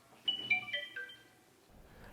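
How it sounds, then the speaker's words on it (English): Redmi K20 Pro smartphone pop-up front camera chime as the motorized camera rises: a short, quiet synthetic run of bright rising tones lasting about a second, then fading away. "You can choose to have a light and sound effect whenever the camera pops out."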